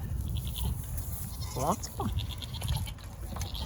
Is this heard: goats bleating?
yes